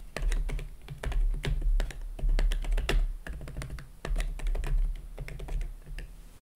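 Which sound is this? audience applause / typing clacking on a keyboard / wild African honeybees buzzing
typing clacking on a keyboard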